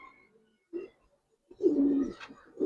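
Giribaz pigeons cooing nearby, a short low coo followed by a longer throaty rolling coo, with quiet gaps between the calls.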